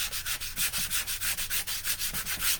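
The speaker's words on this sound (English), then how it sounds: "Let me sand this a little bit, actually." A wooden cutting board is sanded by hand in quick back-and-forth strokes, a rhythmic rasping scrub repeated about a dozen times, close and loud with no talking.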